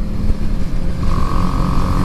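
A 2018 BMW G310R single-cylinder motorcycle engine drones under load while riding, a low, steady rumble with wind noise and a rising whine near the end, loud and close.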